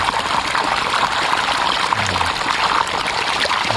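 Water rushing steadily along a canal in a calamansi orchard, a continuous close, fairly loud flowing wash with no pauses.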